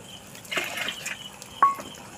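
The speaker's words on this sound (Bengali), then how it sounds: "দেখতেই পাচ্ছেন কত মাছ সব খাবার খাচ্ছে।" Fish splashing and slurping at the water surface as they feed on starter feed, a couple of brief soft splashes with a small drip-like plop, faint and close.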